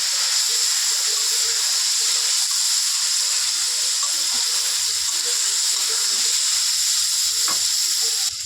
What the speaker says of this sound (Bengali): এবার সবগুলোকে ভালো করে ভেজে নেবো